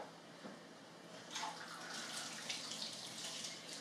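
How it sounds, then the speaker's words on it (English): Tap water runs into a kitchen sink while hands are washed, a steady soft splashing stream with small surges, fairly quiet and with no talking. "Hold on, I'll wash my hands real quick."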